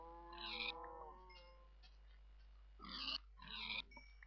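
Minecraft pigs grunt and oink in short squealing calls, a few distinct bursts close and clear over a low steady hum, with no talking.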